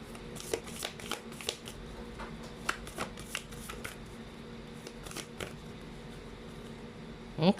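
Tarot cards shuffled by hand, repeated crisp riffles and snaps in short bursts across several seconds, close and fairly quiet, with a brief louder rustle at the end.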